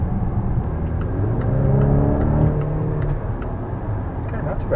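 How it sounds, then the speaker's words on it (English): A Volvo XC90 T6 four-cylinder engine accelerates, a muffled cabin hum that swells in pitch and loudness mid-way then eases, steady road rumble beneath. "It does sound like a 4-cylinder"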